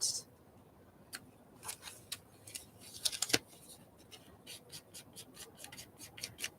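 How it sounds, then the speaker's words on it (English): Paper is peeled off by hand for a collage, making soft, close, intermittent tearing and rustling crackles, a quiet series of brief scratchy bursts that cluster in the middle. "Let me peel off this piece right here."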